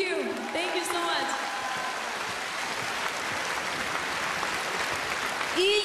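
Audience applause for a singer after her performance on a live televised singing competition night, a broad sustained crowd clapping with faint voices and sung or musical tones at the start and end.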